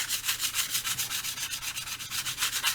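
A comic book is scraped to lift dust off its surface using large, sweeping strokes, producing a close, dry rasping that repeats in a quick, even rhythm of roughly five to six passes a second, with no talking.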